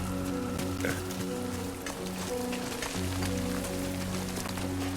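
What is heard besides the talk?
rain in video game Death Stranding 2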